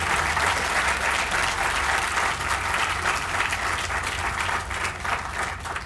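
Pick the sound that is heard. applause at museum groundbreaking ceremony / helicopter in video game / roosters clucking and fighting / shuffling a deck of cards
applause at museum groundbreaking ceremony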